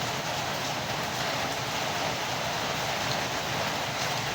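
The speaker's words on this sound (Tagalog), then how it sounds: "Walang tigil ang ulan. Grabe ulan." Heavy, unbroken rain pours down outdoors, a dense, loud, even hiss that fills the whole stretch without a pause.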